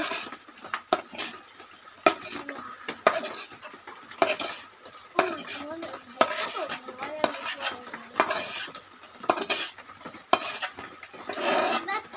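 Mango pulp goes into an oiled pan, followed by repeated scraping and clattering of a spoon against the pan in uneven bursts, with a light sizzle beneath and no talking.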